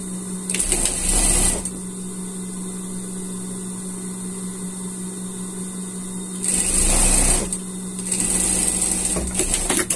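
A sewing machine stitches a finishing seam over folded elastic on unicorn pajamas, running in two loud bursts at the start and again near the end, with a steady motor hum between.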